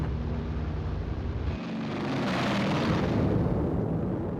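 Incendiary bombs dropped by B-29s at low altitude exploding over Tokyo's wooden houses, a dense, continuous roar of blasts and rumble that swells louder midway and sustains.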